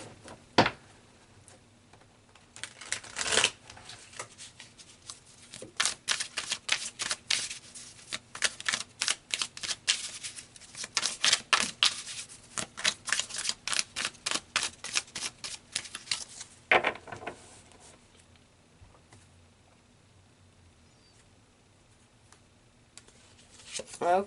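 Tarot cards being shuffled in a long run of crisp, rapid riffling bursts with brief pauses between, close and loud, fading to a few scattered card snaps toward the end.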